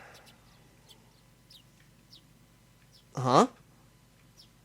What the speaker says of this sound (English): The chirping of birds served as my alarm clock.